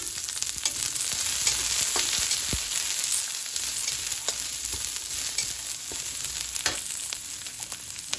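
Onions sautéing in hot oil in a pan for Filipino pakbet, a steady close sizzle and crackle with scattered spoon scrapes and taps running throughout, no one speaking.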